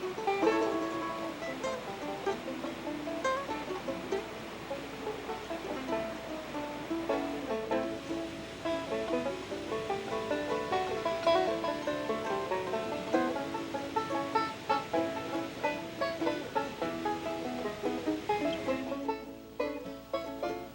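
A small waterfall in the Southern Appalachians gives a continuous broadband rush, steady and moderately close, with a slight rise in the middle and a sudden drop near the end.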